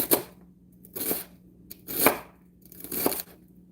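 A knife chops through celery stalks on a board for a ragu alla Bolognese, four crisp crunchy strokes spaced about a second apart, close and clear with quiet between them.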